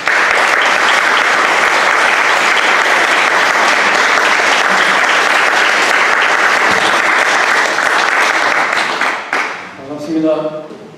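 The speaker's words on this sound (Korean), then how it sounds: "환영의 박수 우리 함께 해주시면 감사하겠습니다" Welcoming applause from the audience at an autumn-semester public lecture as a professor takes the stage, dense and steady for about nine seconds before fading, with a voice beginning to speak at the end.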